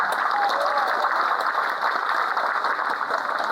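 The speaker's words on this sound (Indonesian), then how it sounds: "Tepuk tangan buat mereka." Applause from a Catholic church congregation at a Rosary month opening Mass at St Maria church, steady, muffled clapping with a crowd murmur running beneath it.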